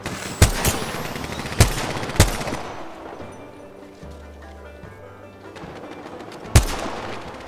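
Apex Legends gunfire: four sharp, loud single shots spaced several seconds apart over background game noise, with humming tones and mechanical sounds in the quieter gap between them.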